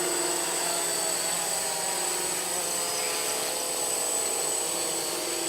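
A Flying 3D X8 GPS RC quadcopter flies fast in forward motion, its rotors giving a constant, high-pitched buzzing whine with steady tonal hum and no voices over it.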